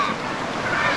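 A strong, cold river current rushes over a rocky bed at Calantas, Calaca, Batangas, heard up close as a continuous, dense wash of water noise with no pauses.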